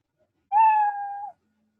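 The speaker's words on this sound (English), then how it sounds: "So the cat makes meow, right? So we can play the sound like meow." A single cartoon-style cat meow, played as a sound effect in the Scratch coding program, rising then sustained for under a second, clean and alone against silence.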